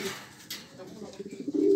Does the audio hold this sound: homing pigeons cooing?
yes